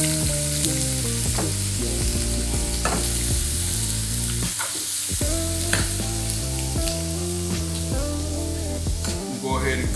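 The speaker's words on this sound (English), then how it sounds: "We're gonna add a little bit of olive oil to our skillet. And then here goes our onions." Onions sizzle loudly in olive oil in a skillet, a dense, continuous frying hiss over steady low rhythmic music, with occasional clicks and knocks.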